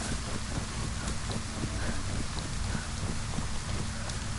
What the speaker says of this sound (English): Welcome to the Relaxing Sounds of Rain podcast.